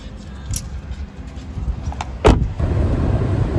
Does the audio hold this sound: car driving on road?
yes